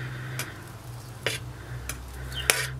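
A utensil scores the mashed potato topping of a cottage pie cooked on a Trangia camping stove, making a few sharp, separate scrapes and taps against the pan over a low steady hum, close by, with no talking.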